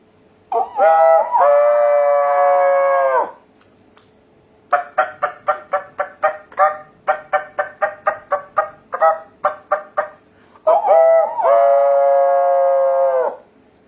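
A person mimics a rooster's long crow, then a rapid series of clucking hen calls, then another drawn-out crow, all loud and close.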